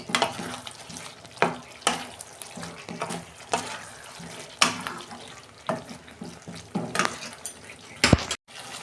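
A spoon stirs and scrapes through cauliflower curry with cashews, raisins and nuts in a pan over low flame, with repeated knocks and scrapes over a soft sizzle, nearby, no speech.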